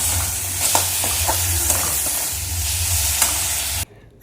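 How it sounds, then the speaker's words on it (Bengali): Spice masala frying and being stirred in a pan, a loud steady sizzle with scraping strokes of the spoon, cutting off abruptly near the end. "মশলাটা কষাচ্ছি"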